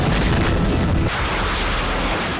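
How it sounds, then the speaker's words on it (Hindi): Heavy booming explosions in wartime Crimea, a loud, dense low rumble that holds strongly for about a second, then drops to a lower, sustained roar without any talk. "दूसरा धमाका, तीसरा धमाका, चौथा धमाका, पांचवा धमाका"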